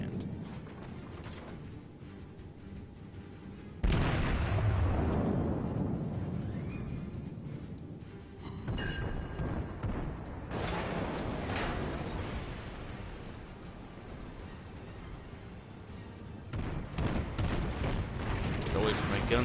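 Battleship guns firing and high-explosive shells bursting in the naval combat game World of Warships: a sudden loud boom followed by rumbling blasts and a later cluster of explosions, with a voice talking over the action.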